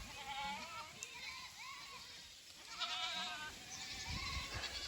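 A herd of goats gives several wavering bleats at moderate distance, the calls overlapping in bursts against a quiet outdoor background.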